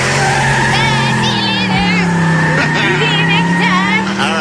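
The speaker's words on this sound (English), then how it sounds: "I didn't see that, but I did hear tire screech." A car's tires screech loudly as it speeds away, a sustained wavering squeal over revving engine noise lasting several seconds, with people talking over it.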